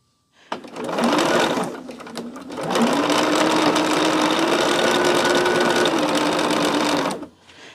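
A sewing machine stitches at speed over a pin on a pumpkin quilt pattern, giving a steady close whirring hum that halts briefly after the first burst and then runs evenly for several seconds before stopping.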